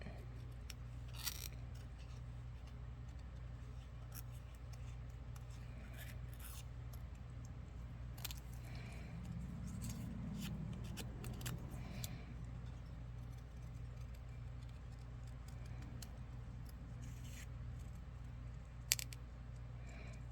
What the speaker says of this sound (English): So I'm going to go ahead and just cut the square out.